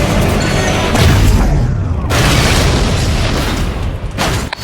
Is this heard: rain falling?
no